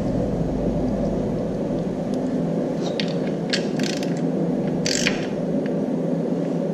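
A ratchet wrench tightens an oil drain plug under a vehicle during an oil change, light clicking bursts heard close over a loud steady mechanical drone.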